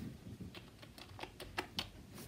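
Soft, quick keystrokes on a computer keyboard, a short burst of muted typing close up with a couple of sharper clicks.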